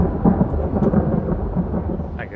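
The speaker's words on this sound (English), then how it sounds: "Ah! The thunder!" Low rumbling thunder in a train simulator video game rolls continuously, deep and heavy, with a faint rain-like hiss above it.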